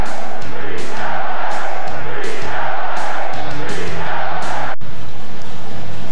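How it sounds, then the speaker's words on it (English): A large crowd at a Giants-Dodgers baseball game at Pacific Bell Park roars and cheers loudly and continuously, with swelling shouts and whoops. "The big crowd is gathering."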